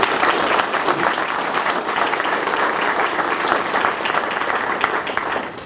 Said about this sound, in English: we should give them, each family member, a round of applause